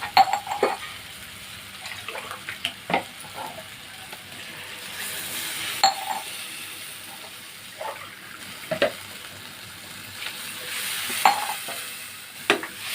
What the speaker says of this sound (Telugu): ఇప్పుడు దీంట్లో వాటర్ పోస్తాం.